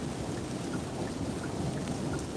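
Rain falls steadily on a Hyundai Ioniq 5, a dense continuous patter and hiss heard from inside the car with a window open, moderately loud and with no talking.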